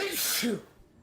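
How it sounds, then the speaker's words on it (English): A single sharp sneeze bursts out close to the microphone, a quick two-part breathy burst that fades into quiet, with no words spoken. "did a drive-by sneeze in my fucking ears"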